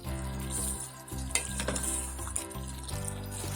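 Chicken biryani stew is stirred together with rice in a pot, giving soft sizzling and scraping with a few spoon clinks over steady background music.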